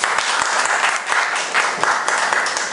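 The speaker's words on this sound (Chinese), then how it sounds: "大家掌声欢迎" Sustained applause from an audience at a self-introduction meetup, steady dense clapping throughout without pause.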